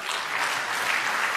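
Audience applause fills the room, a steady dense patter of many hands clapping at moderate level with no voices on top, lasting a brief moment.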